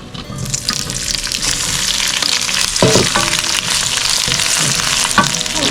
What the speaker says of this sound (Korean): 자, 이거 볶아. 맵지 않게 그냥 간장으로 볶을게.